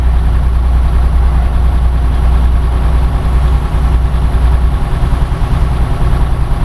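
A MAN TGX 480 truck with a 12-speed gearbox rumbles steadily, heard from the cab as a loud, deep, continuous engine drone.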